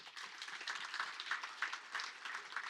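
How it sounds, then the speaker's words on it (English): Steady applause from an audience at a university volleyball press conference, a dense, even patter of many hands that continues without a break from start to finish. "so that deserves a round of applause"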